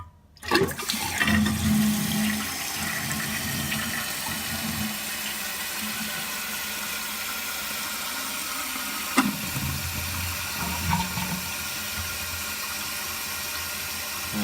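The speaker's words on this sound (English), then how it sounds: "We can see if this is enough to flush the toilet on its own that way." A toilet flushes with a sudden loud rush of water, then settles into a long steady hiss and trickle as the tank refills, with a brief clunk partway through.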